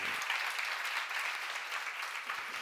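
A church congregation at a Korean seminar applauds with steady, dense clapping that fills the whole stretch, loud and continuous without a break.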